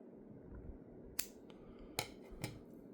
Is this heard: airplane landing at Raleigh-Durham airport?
no